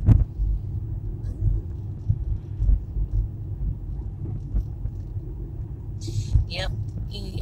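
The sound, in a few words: car driving through a neighborhood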